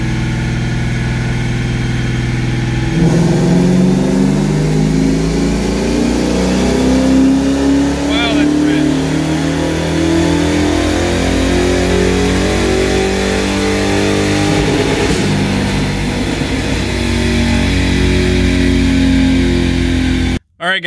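A 1999 Mustang's 4.6 V8 engine with basic bolt-ons roars steadily on a dyno and climbs in pitch through a long sustained pull, with a brief pause near the end; no talking.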